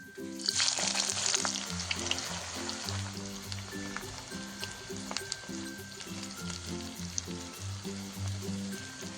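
Onions frying in oil for Kashmiri-style chicken biryani, a steady close sizzle with bursts of crackle and occasional stirring scrapes and clinks throughout.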